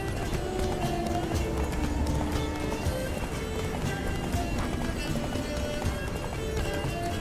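Rapid hoofbeats of a galloping horse in the video game The Witcher 3: Wild Hunt pound steadily throughout, dense and continuous, with a busy rumbling background and no speech.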